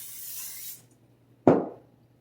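A short hiss of cooking oil spray onto a pan for under a second, then a sudden sharp clatter that rings out and fades, close by.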